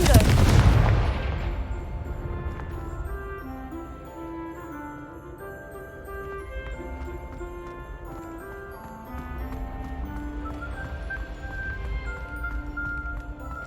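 Blasting-spell explosion in the Hogwarts Legacy video game: one loud, booming blast at the start that rings out and fades under a bed of game music.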